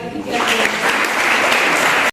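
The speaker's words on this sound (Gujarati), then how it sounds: "જોરદાર તાળીઓ" Loud, dense clapping from a group of students at a school quiz competition fills the whole moment, then cuts off abruptly at the end.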